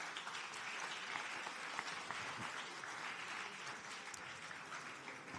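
Audience applause for a speaker at a French panel on industry careers: a steady, even patter of many hands, quiet and distant, with no break for about five seconds.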